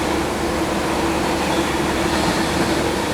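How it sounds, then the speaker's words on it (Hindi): The Vikramshila Express arrives at an Indian railway station with a dense, continuous rolling rumble and rail noise. It is loud and close and holds steady for the whole stretch, and nobody talks. "चलिए विक्रमशिला आ रही है दोस्तों।"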